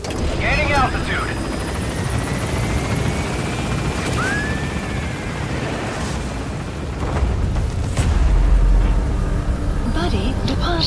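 Helicopter in the video game Metal Gear Solid V: The Phantom Pain, its rotor and engine roar continuous and loud throughout, with short radio-style voices and game effects over it.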